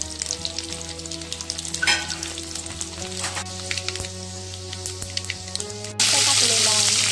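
Finely chopped garlic and turmeric frying in hot oil, a loud continuous sizzle with soft stirring and faint background voices, then a sharper, louder burst of sizzling in the final second.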